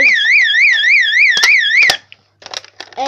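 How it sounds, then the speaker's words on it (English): A fire alarm system plays a loud, close warbling tone that sweeps rapidly up and down, then breaks off into short chirping bursts, as if switching between its tones. "it's got 3 tones, so we're going to check them out."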